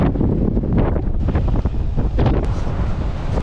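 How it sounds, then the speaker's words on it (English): Strong wind buffets the microphone at a tropical beach resort in Mexico, a loud continuous roaring rumble that gusts unevenly throughout, with no talk. "Wind is still going crazy."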